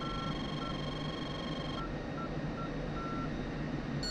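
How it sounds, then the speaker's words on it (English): Steady electronic beeping from a fighter jet's radar warning receiver in the flight simulator DCS pulses in short, repeated tones over a constant engine-like hum, faint and mechanical. "Our RWR is beeping right now."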